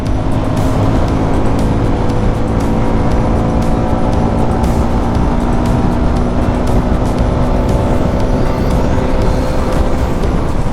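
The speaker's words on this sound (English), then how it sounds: "the motorcycle has very nice grunt and a very nice mid-range" A Suzuki motorcycle rides through Bisale Ghat, its engine droning loud and steady throughout, mixed with constant wind rush and no break in the noise.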